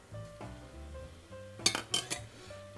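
A ladle scrapes and clinks against a metal pot while tofu and egg soup with green onion is served, giving several sharp, close metallic knocks after a quiet stretch.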